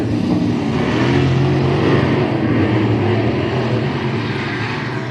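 IMCA Modified dirt race cars at I-37 Speedway thunder off at the green flag, a loud, dense engine roar that holds steady the whole time with no talk over it.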